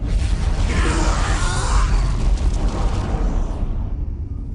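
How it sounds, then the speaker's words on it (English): A loud, sustained roaring blast with a rushing whoosh that holds for several seconds before tapering off, like a heavy energy cannon firing: the Titan cannon in Dawn of War: Dark Crusade. "On my command, fire the Titan cannon."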